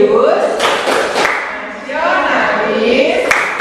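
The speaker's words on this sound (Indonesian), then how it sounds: "Tepuk PPK." A school class performs the rhythmic PPK clap: a few sharp, spaced hand claps in a set pattern, mixed with loud voices chanting together throughout.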